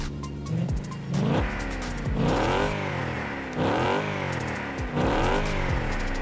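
Chrysler 300 V8 engine in the game Car Parking Multiplayer, revving up and dropping repeatedly in a steady rhythm of four or five loud, close throttle blips, no talk.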